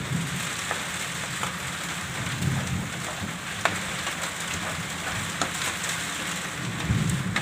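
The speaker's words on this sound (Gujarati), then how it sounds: "વરસાદ આવે છે બહુ જ." Heavy rain pours down in a steady, dense hiss with scattered sharper drops and faint low rumbles, continuous and fairly close throughout.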